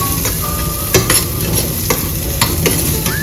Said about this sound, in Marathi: याला थोडं भाजून घ्यायचं आहे, थोडंसं, जास्त नाही